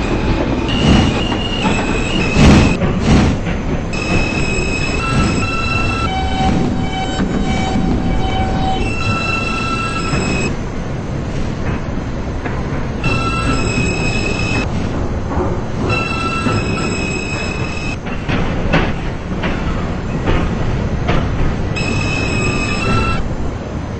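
A Roblox-simulated R160 subway train on the M line runs continuously, with rumbling wheels, rhythmic track clatter and repeated high-pitched wheel squeals and tones, loud and close throughout with no talking.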